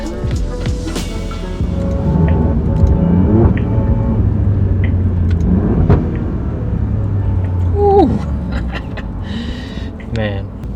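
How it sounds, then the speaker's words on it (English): Alfa Romeo Giulia Quadrifoglio on its stock exhaust at highway speed, a loud, steady low engine and exhaust drone with shifting tones and a few sharper pops and whooshes throughout. "Man, sometimes the sounds that this car and the exhaust makes are just crazy."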